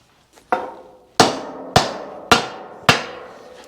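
Five heavy hammer blows land at a steady pace on a metal hitch plate near a Chevy COE truck's frame rail, each strike ringing out and decaying before the next, loud and close.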